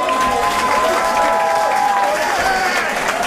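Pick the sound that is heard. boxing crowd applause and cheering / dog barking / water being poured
boxing crowd applause and cheering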